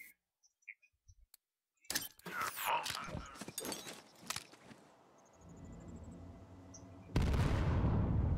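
Borderlands 3 explosion with a shockwave: scattered clicks give way to a loud burst of cracking blasts and debris, a tonal ringing tail, then a sudden roaring wash of noise at the end.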